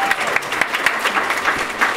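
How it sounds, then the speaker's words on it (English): Audience applause at a graduation ceremony, a steady dense patter of many hands clapping at moderate distance with some voices mixed in, lasting the full two seconds. "I really do think that deserves a little bit of a round of applause."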